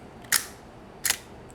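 A Zenit TTL Russian film camera firing its shutter, two crisp mechanical clicks about three quarters of a second apart, close and isolated against a quiet background.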